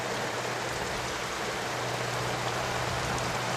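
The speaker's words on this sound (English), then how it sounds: "With this rain, this could be the cover we need." Rain falls steadily in a wartime battle setting, a dense even hiss that fills the whole stretch with no voices.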